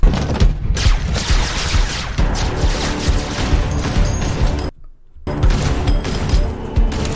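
Gunfire from a Death Korps of Krieg battle animation, dense bursts of shots and booms layered into a loud, continuous wall of combat noise with one brief drop to near silence.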